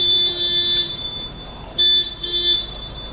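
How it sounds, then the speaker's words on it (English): A car horn honks in short blasts on a city street in Birmingham, with a longer tone followed by two brief honks that stand out loudly above steady traffic noise. "Who is he honking at?"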